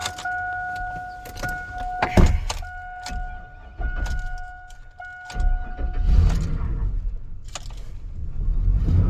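A truck with an LS engine on a jump box cranks with a whirring starter and rattles, then catches and settles into a low rumbling idle, near and fairly loud with a steady electronic tone early on.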